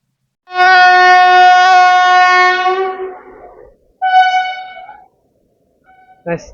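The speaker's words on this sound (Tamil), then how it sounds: "நம்ம train 76810 Karur Tiruchirappalli DEMU Karur junction 7:28 கிளம்பிருச்சுங்க" A loud, sustained DEMU passenger train horn blares for about three seconds as it departs Karur Junction, then a second shorter horn blast follows, with a brief clank at the end.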